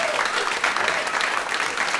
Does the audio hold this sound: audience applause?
yes